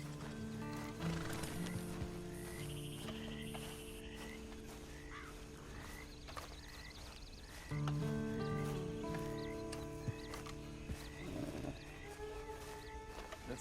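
Horse in the Red Dead Redemption 2 video game, its whinnies and clip-clopping hooves heard faintly among frog croaks and a wild outdoor night ambience, layered with short repeating tonal calls and a low steady drone.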